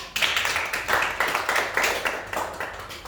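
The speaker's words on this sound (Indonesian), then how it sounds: "Tepuk tangan buat Primarisa." A classroom of students clapping for a classmate, a fairly small group beating out a rhythmic clap in regular pulses, close and clear throughout.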